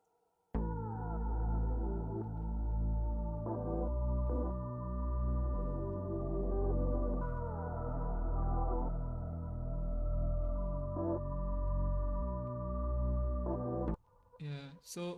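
A full hip-hop beat, with steady layered synth chords and melody over a repeating bass pattern and thumping rhythm, playing alone for about thirteen seconds before cutting off into brief talk.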